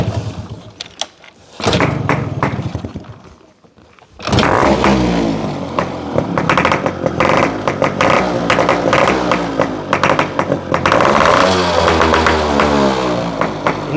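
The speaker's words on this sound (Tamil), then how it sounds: "இந்த வண்டியை நோட் கேளுங்க எப்படி இருக்குன்னு." A restored Yamaha RX two-stroke motorcycle engine starting up and running close by, with a sharp burst, a brief dip, then a loud, steady rattling idle with blips of revving.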